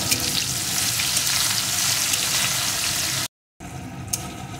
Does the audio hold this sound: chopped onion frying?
yes